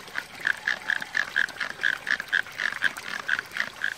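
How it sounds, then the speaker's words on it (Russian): Frogs croak near the Tegallalang rice terraces in Bali in a fast, steady rhythm, a continuous chorus of repeated calls close by and fairly loud, with no talking. "Слышите лягушек?"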